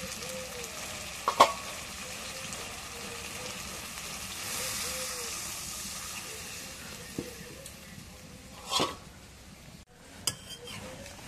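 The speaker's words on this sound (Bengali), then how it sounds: "এখন মাছটা কষানো হয়ে গেছে, জল দিই।" Water poured into a pan of sautéed sea pomfret fish, raising a steady close frying sizzle with a few brief hissing and splashing bursts spread across the clip, no voices.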